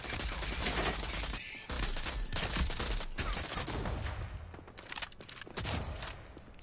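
Video game gunfire with rapid bursts of automatic shots and fusillades rattling continuously at fairly low level, brief gaps between volleys, no talking.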